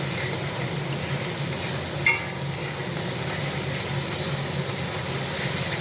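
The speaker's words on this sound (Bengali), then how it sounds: "এদিকে পনির মশলাটা দিয়ে ভালো করে কষিয়ে নিয়ে" Paneer and masala sizzle in a hot pan while being stirred, a steady frying hiss with a brief louder scrape of the spoon partway through.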